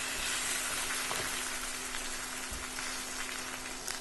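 The fat side of a steak, stood on its end in a pan, fries with a steady broadband sizzle and crackle throughout, with no talking.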